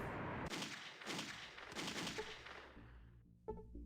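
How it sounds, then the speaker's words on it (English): Gunfire in a town in the video game Fallout 2, several bursts of rapid shots in quick succession that stop short, followed by faint game sounds. "I find it funny that you can hear gunshots when you come into the damn town"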